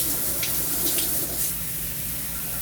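A StoneStream eco-friendly water-saving shower head sprays in hard stream mode, a steady close hiss of running water that holds level throughout with no voices.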